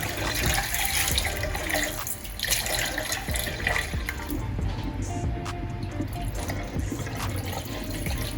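Tap water runs steadily into a sink, splashing and rinsing continuously, with clinks and knocks of something being washed under the stream.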